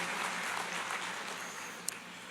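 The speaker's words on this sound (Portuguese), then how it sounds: "deixa eu aplaudir aqui" One person clapping hands during a Portuguese-language talk on the Bible, a steady run of claps over about two seconds at moderate level, with a faint voice underneath.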